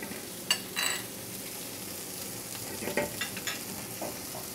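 Spices and dry ingredients fry in hot oil for a Pakistani curry, giving a steady low sizzle with a few brief scraping and stirring clicks near the start and end, no voices.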